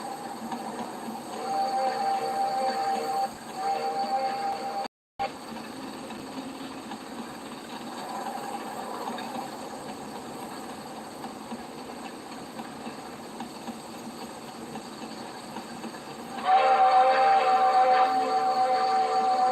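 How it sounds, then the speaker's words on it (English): Steady mechanical rumble of trains running in a Roblox game, with a brief dropout partway and a louder, brighter stretch near the end; no talking. "I'm hearing trains, but I don't see them."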